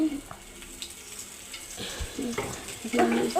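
Oil hits a hot pan on a coal fire while cooking greens, producing a faint sizzle and stirring clatter, with someone talking quietly over it.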